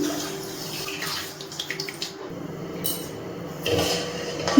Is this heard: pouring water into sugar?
yes